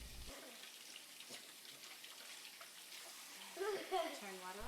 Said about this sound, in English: He then has to wet or wash his hands, rubbing them under the water.